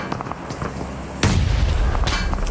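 A grenade explodes in a PUBG Mobile esports match at the PMWC 2026 world championship, a sudden loud blast about a second in that leaves a dense, sustained rumble behind it.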